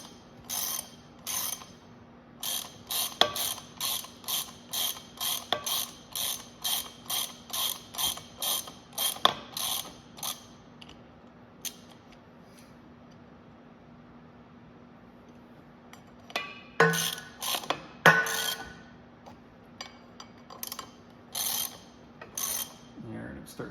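Bolts on a John Deere 720 tractor clutch are tightened with a ratchet wrench. Quiet, close, rhythmic ratchet clicks come in repeated bursts, with a short pause midway before the cranking resumes.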